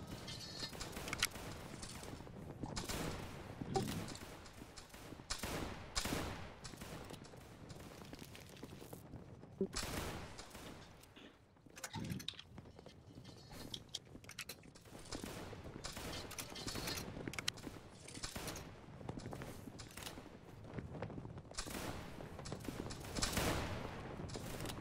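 Musket volleys crack and rattle through a video game battle, with scattered shots and fusillades going on almost without a break. The gunfire is layered over a wide, busy battlefield din.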